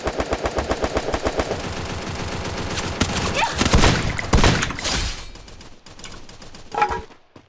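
Rapid automatic gunfire in a shooting video game, a steady loud stream of shots that breaks into scattered bursts and impacts before fading.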